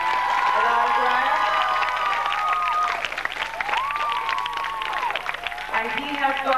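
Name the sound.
audience applause for a poetry recitation winner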